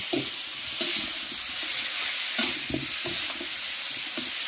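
Rohu fish cooks in a pan with a continuous sizzle, broken by repeated scraping stir strokes at an uneven rhythm. The sound is close and fairly loud, with no voices.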